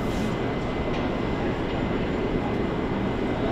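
Helicopter lifting off in a VR helicopter simulator game, a dense steady rotor and engine roar with a low rumble, loud and continuous, no talking.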